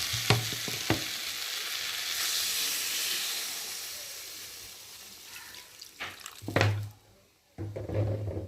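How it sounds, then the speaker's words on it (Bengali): A metal spatula stirs and scrapes masala in oil in a kadai for a pabda fish curry, giving steady frying hiss with a few sharp scrapes and clinks, near and fairly loud, with a brief pause near the end. "তো দেখো কড়ার গায়ে যেসব মশলাগুলো লেগেছে একটু খুন্তি দিয়ে তেলের মধ্যে লাভিয়ে দেবো"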